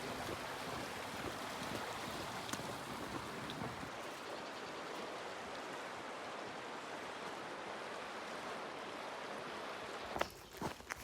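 Rushing river water during a hike's river crossing, a loud steady broadband wash that carries on without break, with a few brief knocks and shuffles near the end.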